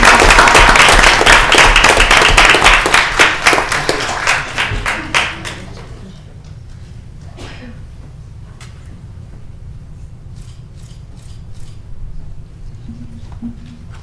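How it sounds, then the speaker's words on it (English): A school board meeting audience at Bolingbrook High School gives a staff member a hearty round of applause for about five seconds. It tapers into scattered claps and faint room noise. "Please give Mr. O'Leary a round of applause."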